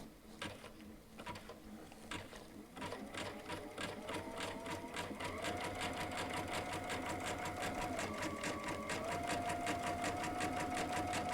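Baby Lock sewing machine stitching leather appliqué with a wide decorative stitch through a Teflon foot, rapid rhythmic needle clatter that speeds up and holds steady, close and alone.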